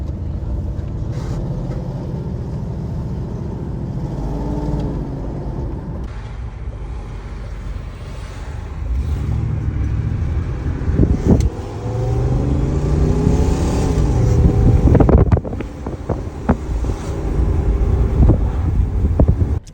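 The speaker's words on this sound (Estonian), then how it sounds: "siin on mingisugune klipp selle mootori häälest" A BMW E34 with a V8 engine running without catalytic converters, heard as a steady low rumble that swells into louder revving toward the end, with wind noise over the microphone throughout.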